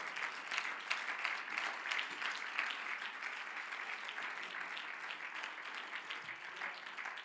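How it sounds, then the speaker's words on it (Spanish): Congregation at a Christian church service breaking into steady applause, a dense, even patter of many clapping hands that carries on at moderate volume throughout, with no talking over it. "Dele un aplauso al Señor en esta hora."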